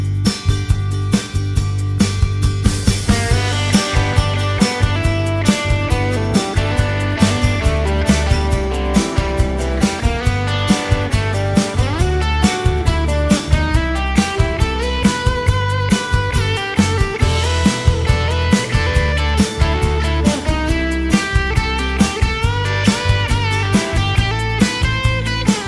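Electric lead guitar playing a solo, a steady stream of melodic notes over a full band with bass and a driving drum beat, loud and continuous.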